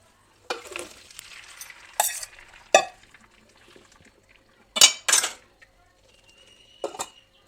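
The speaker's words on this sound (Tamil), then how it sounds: "கருணக்கிழங்கு வேக வச்சு வடிகட்டியாச்சு." Boiled elephant foot yam drained through a strainer in a metal pot in a home kitchen: scattered clanks and scrapes of utensils against metal, with wet rattling and quiet pauses in between, close by.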